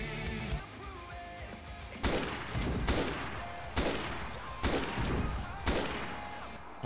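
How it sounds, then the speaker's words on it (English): Gunfire in the DayZ video game: a run of sharp, loud shots spaced roughly a second apart, each with a short crackling tail, standing alone with no talk. "Okay, six shots."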